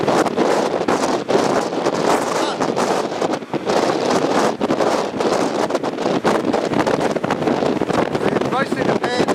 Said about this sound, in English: Ridiculous winds here.